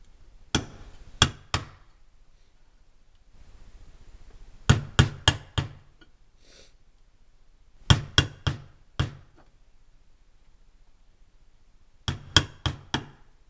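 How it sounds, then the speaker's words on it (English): Hammer blows drive a small nail through sheet metal to punch a starter hole for drilling a mini charcoal chimney: four sharp metallic strikes, a pause, then more groups of three to four taps, close and alone. "I'm just going to use a little nail. I'm going to punch a little hole"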